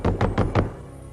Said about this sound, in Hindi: दरवाजा खोलो पीटर, मैं तुम्हारी मदद कर सकता हूँ।